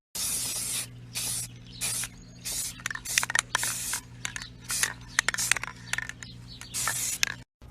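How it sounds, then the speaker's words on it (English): Short hissing bursts from a spray paint can coating a small thrift-store brass lamp, repeated in an irregular rhythm of close, loud sprays with brief pauses and faint can rattles between them. "I'm going to spray paint this little brass lamp that I got at the thrift store."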